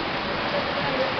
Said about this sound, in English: the rain is beating down